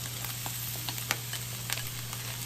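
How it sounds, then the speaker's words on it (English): Broccoli stir-fried with mushrooms, carrots and onion in a pan, giving a steady close sizzle with light crackles and occasional stirring clicks, no talk. "Then we will add the mushroom. Add the carrots."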